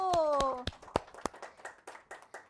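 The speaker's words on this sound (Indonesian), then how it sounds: "Beri aplaus dulu untuk kelompok 1 ya" A classroom group claps for a student team in a short burst of sharp, uneven hand claps that thins out into scattered taps, with a voice briefly over the start.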